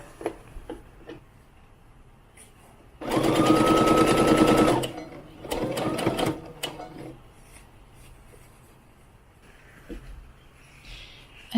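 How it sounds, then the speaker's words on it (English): A sewing machine stitches pieces of doll clothing together in two bursts, a long steady run and then a shorter one, loud and close, with quiet handling noises in between. "I'm just going to sew them together just like that."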